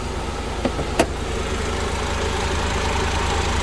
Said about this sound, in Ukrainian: Двигун чисто гарно працює, ніяких нарікань немає по автомобілю.